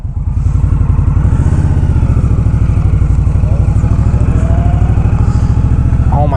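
A 2019 Indian Scout Bobber rumbles loud and close while being ridden, its engine a continuous low throbbing pulse that holds steady throughout, with faint background noise and no clear speech.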